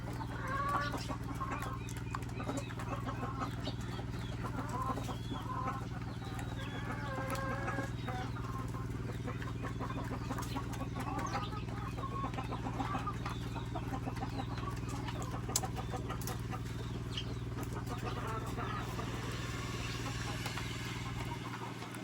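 Chickens cluck and chatter around a farmyard while a hen pecks at a newly hatched chick, with scattered bird calls over a constant low hum and steady background noise.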